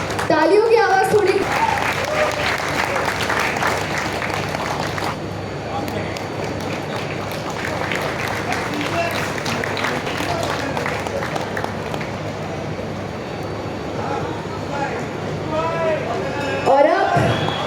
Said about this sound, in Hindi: तालियों की आवाज थोड़ी